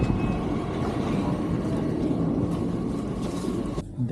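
A train pulls into Pasing station in Germany with a loud, steady rumble and rolling wheel noise close by, ending with a sudden drop near the finish.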